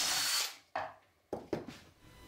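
An 8.5 mm wood drill bit bores a hole in a wooden block in a few short bursts, each starting sharply and trailing off, close by.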